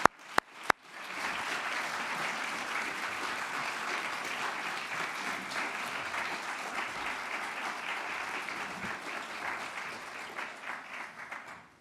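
Applause from an audience for task force members at a rural access-to-justice event, beginning with a few sharp claps and swelling into steady, sustained clapping that fades at the end.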